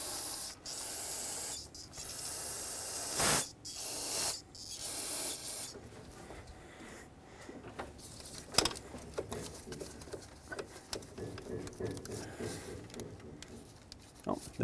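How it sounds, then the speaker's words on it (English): Bursts of aerosol spray hiss in short blasts, close by, while replacing fuel injectors on a Ford Flex, followed by clattering handling noises and small clicks of parts being moved. "I'll spray these as well."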